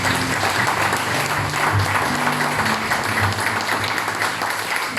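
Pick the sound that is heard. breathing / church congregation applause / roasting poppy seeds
church congregation applause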